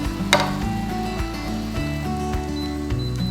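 Mushrooms stir-frying in a pan make a steady close sizzle, broken by a few sharp clacks and scrapes of a utensil against the pan, with a low tonal hum running underneath.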